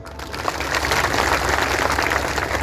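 Crowd applause and cheering at a political rally in Charra, a dense sustained clatter of many hands that stays loud and steady throughout, with no clear speech over it.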